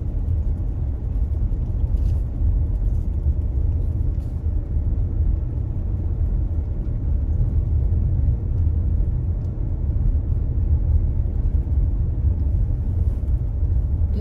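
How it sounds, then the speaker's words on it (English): A bus drives along snowy Swiss mountain roads toward Simmenfälle, heard from inside as a steady, loud, low engine and road rumble that never lets up, with no voices. "This is the bus going to the Simmenfälle."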